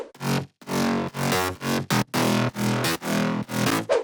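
Layered future house mid bass from Serum presets, shaped with EQ, waveshaper distortion and OTT compression, bounces in a run of gritty, chopped notes with tiny gaps between them. It sits loud and upfront with no voices.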